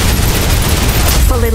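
Sustained suppressive gunfire in the shooter game Snowbreak: Containment Zone, a loud continuous rattle of rapid shots with a voice speaking briefly near the end.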